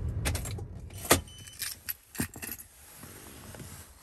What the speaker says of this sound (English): let me go ahead and turn the car off